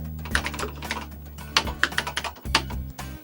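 Quick, uneven keystrokes clack on a BBC Master 128k computer keyboard, crisp and close, with no voices over the typing.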